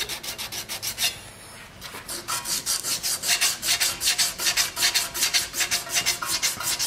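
Rust rubbed off a metal flywheel by hand, a close, rhythmic back-and-forth scraping repeated steadily after a brief pause, with no talk.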